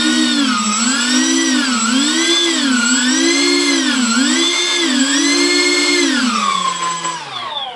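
Electric ducted-fan engines on a Tian Sheng Airbus A380 RC model whine loudly and steadily, their pitch swinging up and down in repeated throttle surges before spooling down at the end, with no talking.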